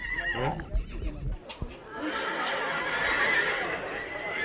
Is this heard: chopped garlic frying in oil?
no